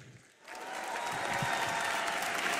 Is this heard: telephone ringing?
no